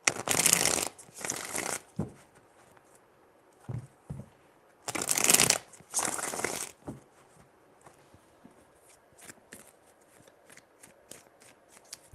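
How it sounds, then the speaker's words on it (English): Tarot cards being shuffled in a few crisp riffling bursts, two long and one short, with quiet pauses between them. "Three shuffles."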